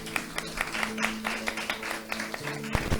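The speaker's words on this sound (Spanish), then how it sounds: "Un aplauso fuerte a Cristo Jesús." A church congregation applauds during a Spanish-language sermon, a moderate spread of clapping with a steady, textured patter throughout, somewhat distant and mixed with faint background tones.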